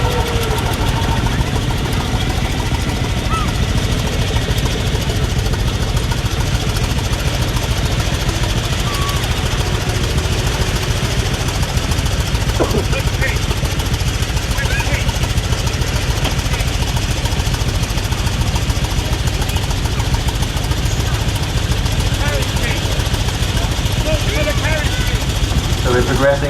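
A veteran car engine runs at the start of the 2021 London to Brighton Veteran Car Run, making a loud, unbroken knocking chug with a thick mechanical clatter that never pauses.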